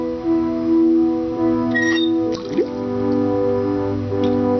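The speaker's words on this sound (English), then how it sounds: "use water pump with the bucket" Pumping and liquid gurgling sounds from a water pump filling a bucket in Day of the Tentacle Remastered, heard alongside sustained game music tones, with a brief splash and bubbling burst partway through.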